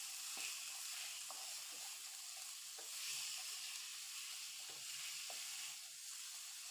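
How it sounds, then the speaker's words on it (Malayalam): Prawns sautéing in a pan for a traditional Kerala dish, with a steady, soft hissing sizzle that runs throughout and a few light taps and scrapes as they are stirred. "കൊഞ്ചും കൂടി ഇട്ട് കൊടുത്തതിന് ശേഷം ഒരു രണ്ട് മിനിറ്റ് ഇതൊന്ന് വഴറ്റി കൊടുക്കാം"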